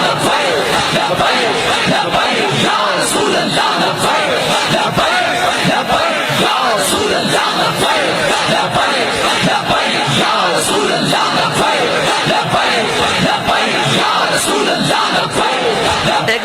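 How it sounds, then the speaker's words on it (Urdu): A large crowd at a religious gathering chants the Labbaik slogan, a loud, dense and continuous roar of massed voices that holds without a break from start to end. "نعرہ بتاؤ کہ آج بھی لبیک کا نعرہ اسی طرح لگ رہا ہے"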